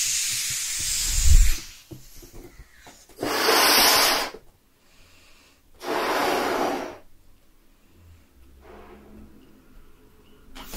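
Air balloons are blown up by mouth in close-up, soft ASMR style, with three long, breathy exhalations about a second each, separated by quieter pauses and faint rubbing.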